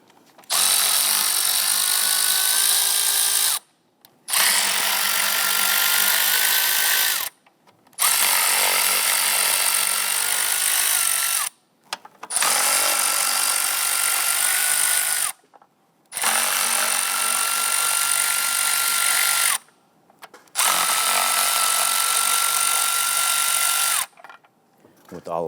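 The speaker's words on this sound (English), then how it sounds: "Using a 5/16 socket, go ahead and loosen the upper intake bolts." A power ratchet with a 5/16 socket loosens the upper intake bolts on a Jeep Grand Cherokee 3.6L V6, six loud whirring bursts separated by short pauses, close to the listener.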